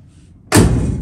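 The driver door of a 1964 Chevelle swings shut with one solid, loud thud after a quiet moment, followed by a short ringing decay.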